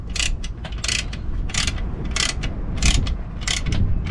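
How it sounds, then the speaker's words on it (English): Wrench cranking a fitting down tight during RV setup or teardown: a run of short, evenly spaced metallic ratcheting clicks, fairly close and steady, over a low rumbling background, with no talking. "put the wrench on there, and then you just crank it down tight."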